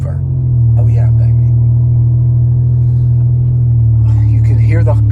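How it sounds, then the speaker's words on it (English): A car engine roars steadily at close range, a loud low rumble holding throughout with slight swells, while a person talks over it in bursts. "You can hear the car is still roaring"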